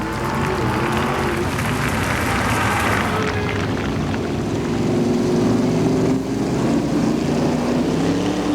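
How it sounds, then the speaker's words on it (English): Crowd applause for a sprint car race winner at a Ventura, California speedway, dense clapping for the first few seconds, then fading into a steady loud drone of race car engines. "Nice round of applause for our winner, number 7, Mr. Rick Taylor."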